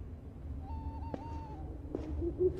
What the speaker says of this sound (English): now the owl's flown up there and won't come down